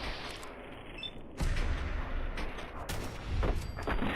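Gunfire in the video game Fallout 4 during a fight with raiders: several sharp shots and booms over a busy, rumbling game background, moderately loud.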